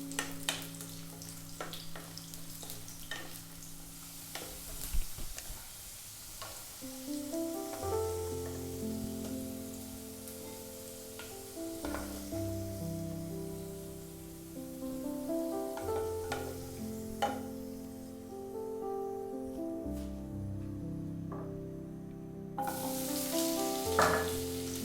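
Chicken and potato pieces frying in a pan for Filipino adobo and afritada, a soft steady sizzle running underneath music, with a brief louder hiss near the end.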